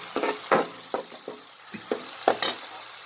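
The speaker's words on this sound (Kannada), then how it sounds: "ಸ್ವಲ್ಪ ಹಸಿ ವಾಸನೆ ಹೋಗೋ ತನಕ ಸ್ವಲ್ಪ ಫ್ರೈ ಮಾಡ್ಕೊಳ್ಳೋಣ" Green chili paste frying in a pan, stirred with a series of sharp spatula scrapes and taps spaced irregularly over a continuous low sizzle, close and fairly loud, no talking.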